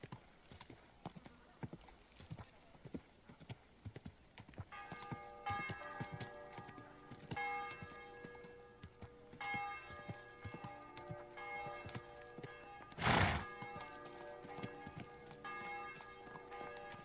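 Slow clip-clop of hooves with a brief whinny partway through, set against a tonal musical background and occasional ticking clicks.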